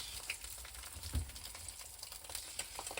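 An egg sizzles and fries quietly in a pan, a faint, steady crackle with low rumble beneath it.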